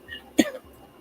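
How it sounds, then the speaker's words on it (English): One short, sharp cough from a person nearby, a single burst standing out against a quiet room. "Who's coughing?"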